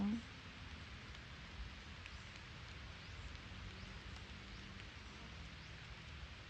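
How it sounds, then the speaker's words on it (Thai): Light rain falls under shade trees in a durian orchard in Na Chueak, Maha Sarakham, on an overcast day, a soft, steady, faint patter with a dull low rumble beneath and one brief bump at the start. "วันนี้ฟ้าครึ้มฝนตกปล่อยๆ แล้วค่ะ"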